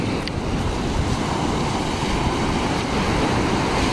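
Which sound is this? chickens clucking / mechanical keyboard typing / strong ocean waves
strong ocean waves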